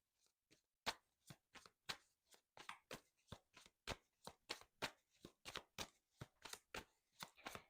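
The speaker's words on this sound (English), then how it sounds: "Why can't I shuffle these cards today?" Tarot cards are shuffled by hand in a quick run of sharp, crisp riffles and taps, about twenty distinct bursts, close and quiet.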